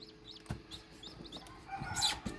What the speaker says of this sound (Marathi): पाहूया किती निघालेत पिल्ले मित्रांनो